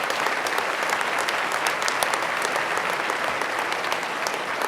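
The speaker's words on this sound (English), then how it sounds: "that really requires, I think, a great round of applause for everybody" A large audience at a state executive budget presentation claps steadily and loudly, a thick, even wash of applause holding throughout with no talking.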